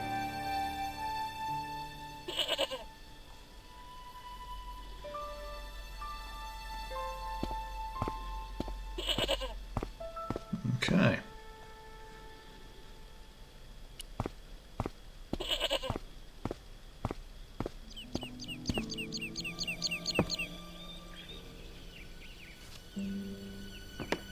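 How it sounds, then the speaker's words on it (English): A goat tethered by a tangled rope bleats in Broken Sword: The Shadow of the Templars, several separate bleats spaced across a quiet rural scene with music and occasional clanks. "The rope by which the goat was tethered had become tangled on the old plowshare"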